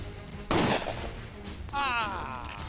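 A gun fires in an action-film scene, a loud sharp burst of shots followed by a voice speaking.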